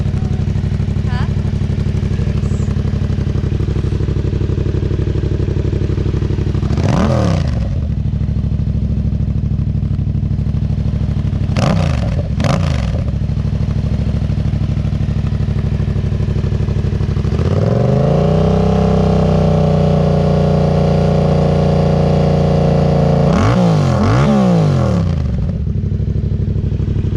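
An idling engine blipped up to show the RPM, with several quick revs rising and falling and one longer held rev in the middle, loud and close over a steady rumbling idle, with a voice talking at times.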